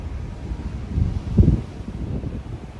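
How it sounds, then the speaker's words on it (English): Strong wind buffets the microphone on the open deck of the Oceania Vista cruise ship, a constant low rumbling roar with a brief louder gust midway. "It is very windy."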